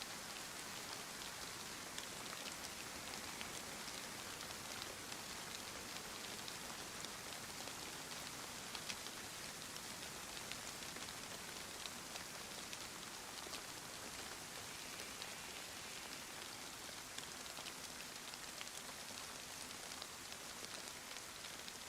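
Steady rain falls in the DayZ video game, a dense, even hiss of drops pattering on surfaces that continues without a break for the whole stretch, with no voices over it.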